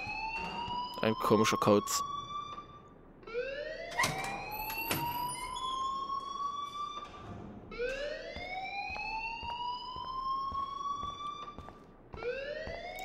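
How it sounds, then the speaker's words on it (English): A school alarm rings in Life is Strange, rising electronic tones repeating in long sweeping cycles, loud and continuous, with voices talking over it at the start. "please turn off that alarm"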